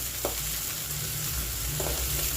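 Shark fish pieces and onion fry in a pan with a dense, continuous sizzle and a couple of faint stirring scrapes, close and steady throughout.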